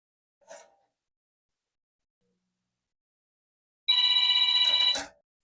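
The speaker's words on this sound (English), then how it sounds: "Sorry about the phone." A telephone rings with a loud, sustained electronic bell tone after a brief faint click, close by in a quiet hobby workshop where a model starship is being soldered.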